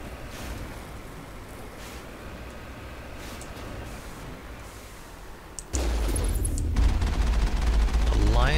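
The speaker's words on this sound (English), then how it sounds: "Alliance heavy turret. Oh crap, I'm getting shot at." An Alliance heavy turret firing in the video game Mass Effect, a steady rattling barrage over engine rumble that jumps suddenly louder and heavier partway through, near and loud.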